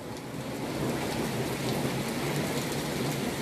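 Heavy rain during a thunderstorm, a dense, steady hiss of falling drops with a low rolling rumble underneath, loud and continuous with no voices.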